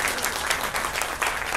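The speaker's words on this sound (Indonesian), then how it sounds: "sekali lagi berikan tepuk tangan untuk Pak Suprato" An audience at a networking seminar applauds steadily, a dense wash of many hands clapping at close range that continues evenly throughout.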